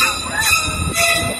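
A Universal Studios Hollywood studio tour tram drives along with a steady rumbling, rolling sound, loud and close throughout the short stretch.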